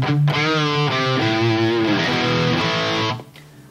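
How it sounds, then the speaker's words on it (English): A distorted electric guitar plays crunchy, sustained chords through a JCM 800-style high-gain amp model on a Fractal Audio Axe-Fx III, without input boost, loud and up close, ending abruptly into near silence. "So just without the input boost, it can deliver solid crunch tones."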